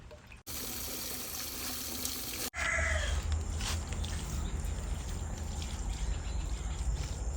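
A liquid WDC waste decomposer solution is poured onto plants as a steady, splashy stream that starts abruptly after a short quieter stretch and continues close by until the end.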